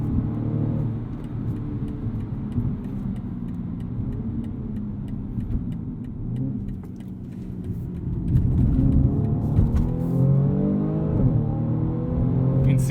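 A 2020 BMW M235i Gran Coupe accelerating hard in sport mode, its engine drone climbing in pitch through rapid 8-speed gear changes, heard from inside the cabin with a loud surge near the end.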